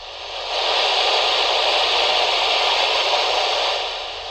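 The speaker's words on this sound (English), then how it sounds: "one of the biggest complaints is the radio on a CB always sounds like this." Steady broadband static from a Uniden PRO401HH handheld CB radio hisses without a break for about four seconds, loud and even, with no voices breaking through.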